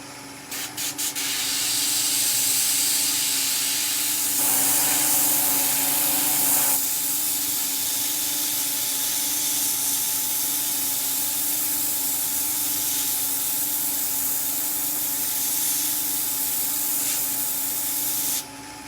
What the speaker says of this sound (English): I find it's only airbrushing that will get right the way into all those little frills